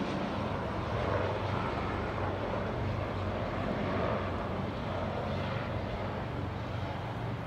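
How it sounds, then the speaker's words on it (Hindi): A helicopter passes overhead near the Sheikh Zayed Grand Mosque in Abu Dhabi, a steady broad rotor-and-engine roar that stays fairly constant and moderately loud throughout. "ये देखिए ये हेलीकॉप्टर गुजर रहा है"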